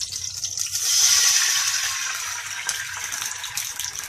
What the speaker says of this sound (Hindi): एंड साथ ही इसमें मैं 1 कप पानी ऐड करूंगी